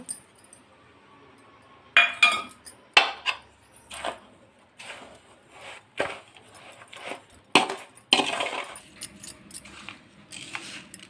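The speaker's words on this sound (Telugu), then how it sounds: "ఇప్పుడైతే యాలకుల పొడి కలుపుకుందాం ఇందులో" Cardamom powder being stirred into a rava laddu mixture, with a series of sharp metallic clinks and scrapes from a spoon against the bowl arriving in irregular bursts, fairly close and without talk.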